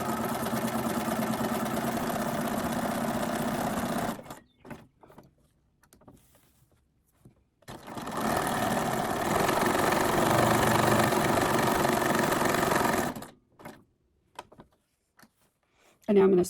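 Sewing machine stitching fabric tags for a junk journal, running in two sustained bursts of steady motor whir with a quiet pause between and a short restart at the end.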